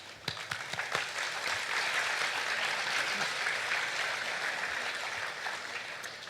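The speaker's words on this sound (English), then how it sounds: "Sorry, applause again." Audience applauding at a commemorative stamp unveiling ceremony, a dense, steady wash of clapping from a crowd that holds for several seconds with a few sharper nearby claps at the start, then gradually thins out.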